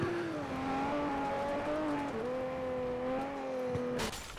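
A car in Forza Horizon drives through a car park, its engine holding a steady tone, then easing off and rising again, with a brief knock near the end.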